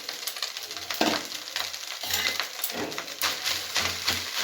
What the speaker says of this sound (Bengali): ভাতটাকে দিয়ে আবার একটু নাড়াচাড়া করে নিচ্ছি খুব ভালো করে